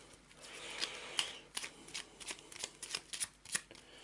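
A deck of game cards is shuffled by hand for a Secrets of the Lost Tomb board game, giving a steady run of crisp riffling flutters and soft slaps, close and fairly quiet with no talking.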